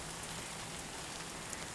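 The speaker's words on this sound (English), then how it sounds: "Yeah, I know it's raining." Steady rain in the Death Stranding 2: On The Beach video game, a continuous even hiss of falling drops near a hot spring, faint and unbroken throughout.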